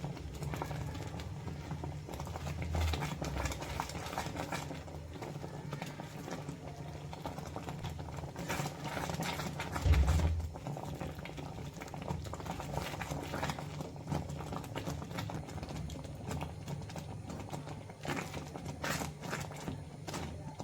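Ripe mango pudding is stirred nonstop in a pan as it cooks, giving soft, steady scraping and faint bubbling with one brief thump midway, quiet and without talk.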